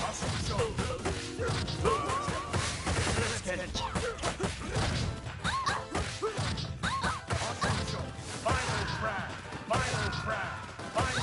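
Rapid, repeated heavy crashing impacts and whooshes from special attacks in Streets of Rage 4, loud and dense throughout, with shouted voices mixed in.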